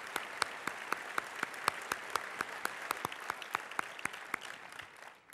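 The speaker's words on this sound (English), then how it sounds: "I'd like you to join me in a round of applause for all that they've given their profession." An audience at a financial planners' conference applauds steadily, the clapping a dense, even wash with sharp individual claps, fading slightly at the end.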